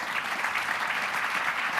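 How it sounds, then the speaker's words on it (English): A loud, dense burst of clapping from a crowd at an official launch event, steady and close throughout the brief moment. "And big bunch of applause."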